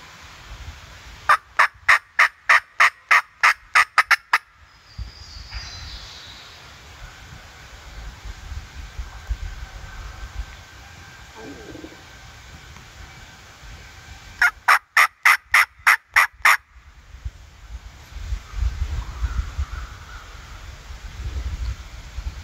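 Wild turkey gobbling during a Mississippi turkey hunt: two bursts of rapid, clear calling in sharp repeated pulses, separated by a long quiet stretch of outdoor ambience.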